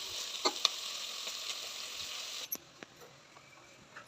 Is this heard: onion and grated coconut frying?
yes